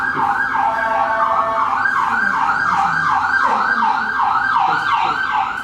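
Continuous wailing emergency siren, rising and falling in a steady repeating cycle, loud and close over faint road rumble.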